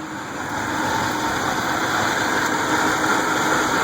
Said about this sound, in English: Notice the engine kind of jumps around a little bit.